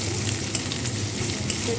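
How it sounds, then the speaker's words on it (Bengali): Steady, close sizzling of onions frying in hot oil, a continuous crackling hiss with no talking. "দিয়ে একটু ভাজা হতে দেবো, লাল লাল করে ভাজবো"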